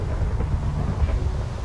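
Steady rain falls with a low, rolling rumble of thunder outside on a farm, a dense wash of noise that stays even and fairly loud throughout.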